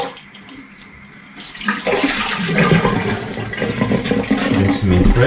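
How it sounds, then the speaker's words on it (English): Pipis, or clams, are rinsed in fresh water, with loud gushing water and shells sloshing that start quietly and swell into a steady rush, close up, with some faint talk at the start. "time to do final rinse on the pippies"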